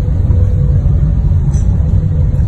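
Thunder rumbling during rain on a Diwali evening, heard as a loud, deep, continuous roll that persists without break for the whole stretch.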